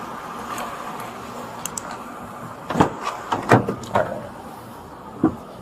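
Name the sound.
car door being opened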